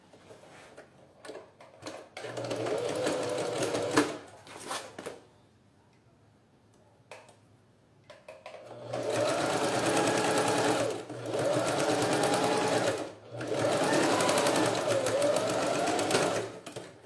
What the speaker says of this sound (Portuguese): Vou dobrar e vou costurar bem na beiradinha, só onde eu tenho o meu buraco.